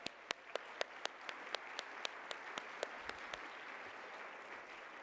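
Applause at a Jewish Funders Network award event, with a soft, steady wash of clapping under sharp, evenly spaced loud claps close by, lasting several seconds without talk.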